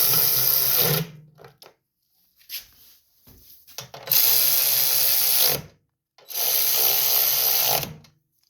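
A power tool tightens carburetor bolts on a 2021 Craftsman snowblower in three whirring bursts of a second or more each, separated by short pauses and small clicks, close and fairly loud.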